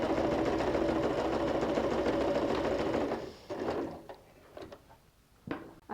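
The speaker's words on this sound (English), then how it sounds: "Place the presser foot on the mark and sew a straight stitch, starting and finishing with the back stitch." A sewing machine runs a straight stitch through denim, a loud, fast, continuous mechanical whir for about three seconds, then stops, followed by scattered handling clicks and knocks nearby.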